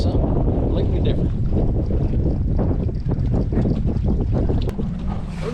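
Steady heavy wind buffeting the microphone while catfish fishing from a boat on cold, shallow Truman Lake, a loud continuous rushing roar with little variation.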